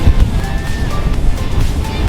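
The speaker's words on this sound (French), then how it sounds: "il y a d'énormes vagues" Large sea waves surge and wash steadily off the coast of Scotland, heard from a boat amid constant roaring wind buffeting the microphone, with no clear breaks.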